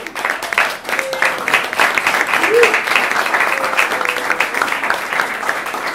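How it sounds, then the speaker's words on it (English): A university audience applauding student entrepreneurship leaders, a loud, dense, continuous burst of clapping from many people, with a brief voice cutting through partway. "can we please applaud you?"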